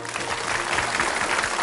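Audience applause at an overseas Chinese singing contest final in Los Angeles, a dense steady clapping from a hall full of people, loud and continuous throughout with no talking over it.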